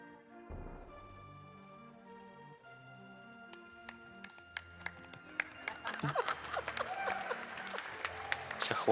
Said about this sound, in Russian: Все хлопают, потому что ничего не происходит.